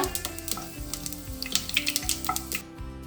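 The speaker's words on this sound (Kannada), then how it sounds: "ಇದು ಸಾಸಿವೆ ಚಟ್ಪಟ ಅನ್ಲಿಕ್ಕತ್ತದ" Mustard seeds crackle and pop in hot oil while tempering for a stuffed brinjal curry: a close, steady run of sharp spluttering bursts over a bubbling sizzle, with no talking.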